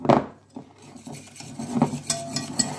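Egg stirred into muffin mix from a boxed leopard muffin kit, a spoon scraping and knocking against the bowl in irregular close strokes with a few light clinks, no voices.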